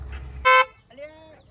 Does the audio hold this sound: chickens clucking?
no